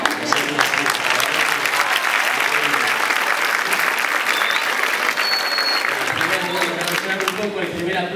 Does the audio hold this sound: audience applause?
yes